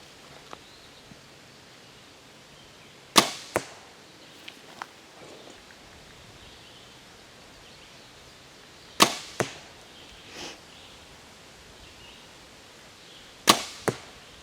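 Three sharp arrow releases and target impacts from a bow fitted with an HHA Optimizer Lite King Pin sight, shot at a target 31 yards away, each a crisp snap followed quickly by a thud, spaced several seconds apart outdoors with faint rustling between.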